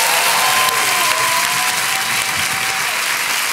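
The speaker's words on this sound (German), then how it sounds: "Und das ist Ihr Applaus" A TV studio audience gives a talk-show guest a loud, sustained round of applause, with dense uniform clapping throughout and a faint whistle-like tone drifting underneath.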